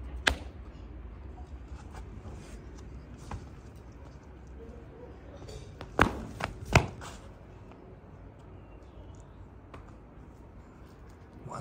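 A rabbit thumps its feet at night: a few sharp, hollow knocks, two strongest near the middle, over a faint, noisy background.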